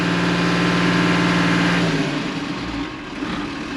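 A John Deere tractor engine runs hard at high revs, then drops back toward a lower, rougher idle partway through, loud and close with no voices.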